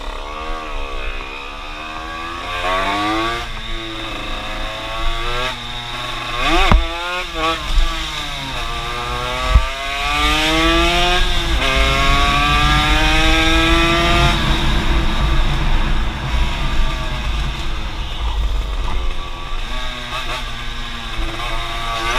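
An XP6 Evo 2 motorcycle engine idles and is revved repeatedly, its pitch climbing and falling in long sweeps, then holds a high, buzzing rev near the end, close and loud with no talk.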